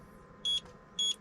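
T8 Lite drone radio controller sounding warning beeps: two short, high-pitched electronic beeps spaced about half a second apart, faint against a quiet background hum.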